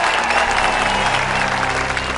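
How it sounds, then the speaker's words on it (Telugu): A crowd claps steadily in a dense, continuous wash of applause through a film's speech scene about farmers, with a low hum beneath and no pause. "చప్పట్లు చప్పట్లు"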